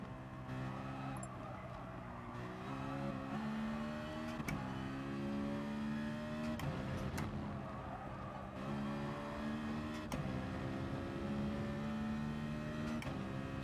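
A race car engine in GT Sport revs up through steadily rising gear pulls, with each shift bringing a drop in pitch before it climbs again. The engine drones steadily and close throughout.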